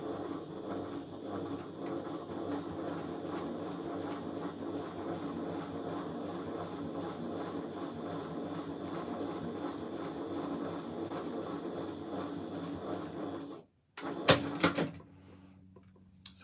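Sewing machine stitching two fabric pieces together with a shortened stitch length, a steady continuous whirring hum for about fourteen seconds before stopping abruptly, followed by a few brief clunks and clicks.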